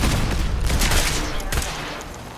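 Sustained dense gunfire in Fallout 4's Far Harbor, loud and continuous with heavy rumbling shots, no talking over it.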